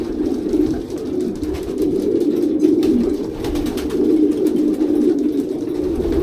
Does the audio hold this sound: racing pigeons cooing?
yes